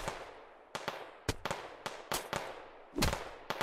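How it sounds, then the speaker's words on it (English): Gunfire in the first-person shooter BattleBit Remastered: a series of sharp, loud shots spaced irregularly, with one heavier blast near the end, crisp and close with no voices. "We're being shot at."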